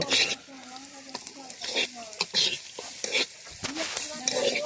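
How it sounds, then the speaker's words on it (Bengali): Vegetable noodles stirred with a metal spatula while frying in oil, a soft scraping and sizzling under a steady voice talking over it. "আমরা আস্তে আস্তে দিচ্ছি আর আস্তে আস্তে খুন্তি দিয়ে নাড়াচাড়া করছি"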